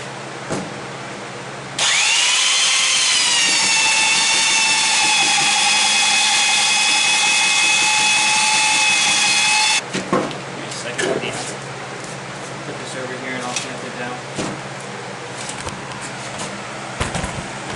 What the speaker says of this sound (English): Now this wood was plain, but I still want to sand the top of it nice.